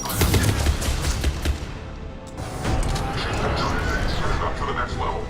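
Dense sci-fi gunfire from Mass Effect 3 rattles through a battle, with heavy bursts at the start, a brief lull, then steady shooting. Game voices talk over the fighting.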